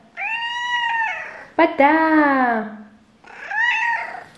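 A pet cat meows insistently while begging for food, giving several drawn-out, close meows with short gaps between them and a brief clatter in the middle, and a person speaks quickly in between.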